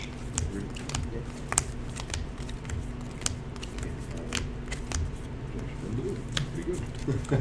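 A deck of Magic cards is shuffled at a table during a Pioneer match, a steady run of riffling card snaps and soft taps with a little faint talk mixed in.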